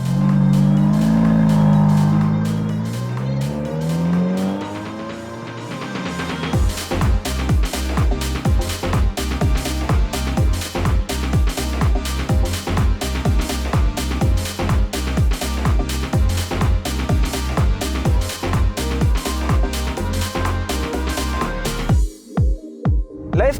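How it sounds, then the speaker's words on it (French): A Ferrari F430 starts off after low rumbling, its engine rising then settling into a loud, steady rhythmic drone with repeated pulses, close and continuous until an abrupt cut near the end, with no talk. "On va aller rouler, Joseph."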